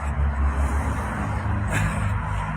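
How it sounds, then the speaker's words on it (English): Road traffic rolling past outdoors in South Africa, a steady loud rumble of cars and heavier vehicles with a brief hiss-like swell midway, no pauses. "there's a lot of traffic coming by, very noisy."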